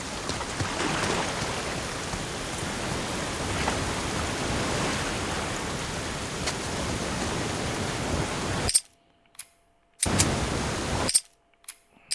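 Rain in The Last of Us Part II pours as a steady broadband hiss for most of the stretch, then cuts out abruptly into near silence twice before resuming.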